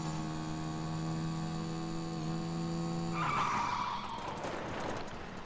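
A buggy in a video game, its engine a steady tonal hum that gives way to a rough skidding scrape of tires on loose ground partway through. No voices are heard.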